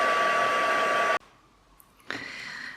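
A hair dryer blows loudly on a mixed-media Christmas craft tag, a strong steady whoosh that cuts off abruptly, pauses briefly, then starts up again.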